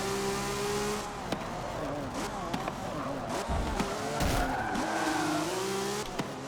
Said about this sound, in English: I was definitely skidding out of control.